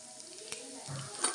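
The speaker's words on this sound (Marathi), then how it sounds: "आपण हे थोडेसे परतून घेणार आहोत।" Stale bhakri being stirred and sautéed in a pan with cumin and red chilli, a faint low sizzle with soft scraping strokes and a brief clink, quiet and close.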